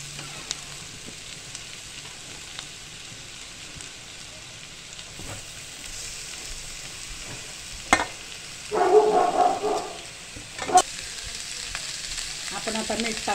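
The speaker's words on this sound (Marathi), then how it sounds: "अशा प्रकारे आपल्याला कांदा चांगला मऊ होईपर्यंत परतायचा आहे" Onion and potatoes sauté in a pan with a continuous soft sizzle, broken by occasional sharper spoon scrapes and a brief louder clatter near the end.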